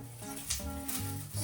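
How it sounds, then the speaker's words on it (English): Dried cranberries sizzle and crackle in a hot pan while being stirred for a green bean, cranberry and nut salad. The frying hiss runs steady and close throughout, with no talking. "here those start to sizzle where it was hot"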